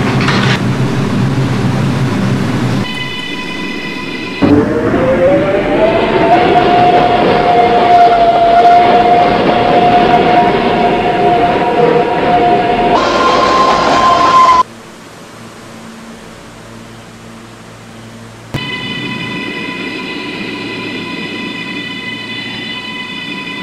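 An R211T subway train runs on the D line in a Roblox game, with a loud steady rumble, a rising motor whine, and chime-like tones between runs.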